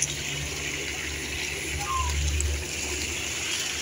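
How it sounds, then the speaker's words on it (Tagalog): Spring water flows continuously at a fish pond beside a poultry house, a steady, moderately loud wash of running water with a low rumble underneath and no break. "Ang tubig dito ay dire-diretso. May bukal, may pinagalingang bukal."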